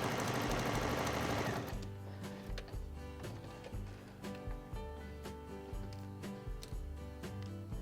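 A sewing machine stitches fabric strips, a loud whirring burst at first, then quieter rhythmic clicking and tapping of the needle mechanism close by, with no speech.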